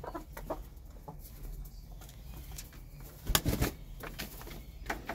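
Hens cluck in short, scattered bursts, with quick pecking taps at eggs and a sudden flurry of wing flaps midway, close up and without talk.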